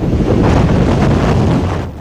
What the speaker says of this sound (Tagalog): naglalaki ang alon ng umahampas sa baybayin kahapon